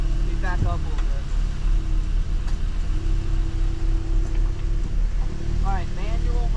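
An Audi S3 backs up slowly at a dig-racing meet, its engine holding a steady low drone close by while people talk over it throughout.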